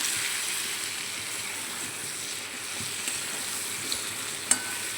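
Potatoes and pointed gourd fry in a pan with turmeric, cumin and coriander, making a steady close sizzle with occasional soft clicks of stirring and no voices.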